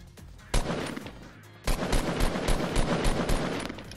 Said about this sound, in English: He's shooting the tree, by the way.